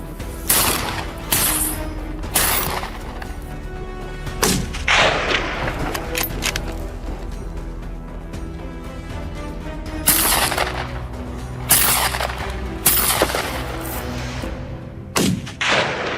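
Gunshots ring out during a boar hunt: several loud, sharp blasts at irregular intervals, each with a booming tail that echoes outdoors, with no talk between them.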